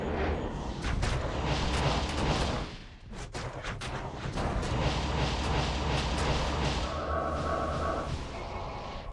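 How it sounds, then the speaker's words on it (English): A Necromancer's corpse explosion spell in Diablo 2 sets off repeated heavy booming blasts, loud and dense, with a short lull before the explosions resume over game ambience. "Keep blowing them up with corpse explosion."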